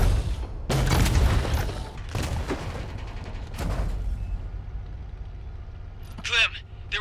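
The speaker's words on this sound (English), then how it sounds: "Eat some grenade launcher." Grenade launcher blasts in the video game Bounty Star, heavy booming bursts near the start and middle, followed by lower rumbling and scattered sharper noises; a voice talks over parts of the action.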